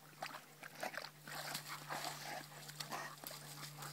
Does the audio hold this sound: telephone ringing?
no